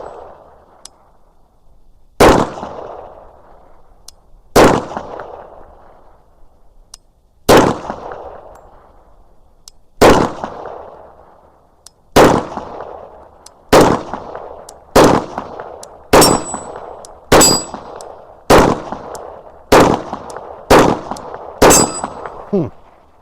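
Rifle shots from a G22 fitted with a compensator ring off steel targets, about fifteen sharp loud cracks each followed by a ringing metallic clang, spaced widely at first and then coming in a faster steady cadence.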